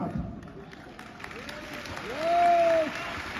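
Stadium audience applause at an RCM 25th anniversary event at Tyagraj Stadium in Delhi, a brief burst of clapping under a man's speech, with a rising tonal sweep through the middle.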